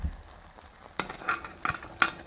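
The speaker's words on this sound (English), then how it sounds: "So I turned on the stove so it's simmering now" Pineapple glaze made with cherry juice simmers on a stove with a soft bubbling hiss, broken by a few louder clinks and stirring scrapes of a utensil against the pot. No one talks.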